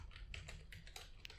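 Someone types on a computer keyboard while writing game code, producing quick, faint key clicks in an uneven rhythm close by, with no talking.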